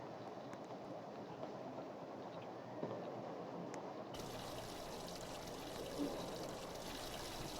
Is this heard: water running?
yes